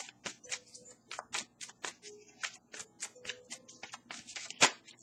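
Tarot cards shuffled and drawn by hand in quick, repeated riffles and flicks, close and crisp, with one sharper slap near the end and no voices.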